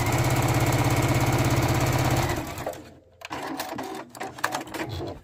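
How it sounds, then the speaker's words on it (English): A sewing machine stitches a 1/2 inch seam up the side of fabric for boxed corners, running in a loud, close, steady whir of rapid stitches before stopping, followed by handling and clattering noises. "so now we're going to stitch the 1/2 inch seam right up this side"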